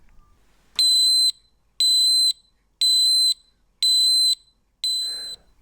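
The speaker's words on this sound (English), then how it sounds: "That buzzer could be really loud, really obnoxious. It probably sounded something like this." A Sangean RCR-22 alarm clock buzzer sounds in five loud, shrill electronic beeps of about half a second each, evenly spaced roughly a second apart against near silence.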